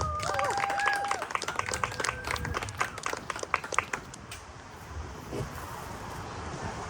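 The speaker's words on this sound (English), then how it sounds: "That was an awful applause." Scattered clapping from an audience that quickly fades out, leaving a low hiss of room noise.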